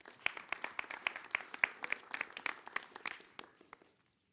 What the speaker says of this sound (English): Big round of applause for Josèfa.